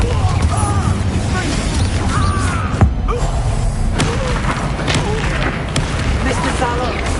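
Confringo blasting spells from Hogwarts Legacy on PS5 burst again and again through a dense, loud game battle, booming thuds landing amid constant effects, clashing magic and shouted voices.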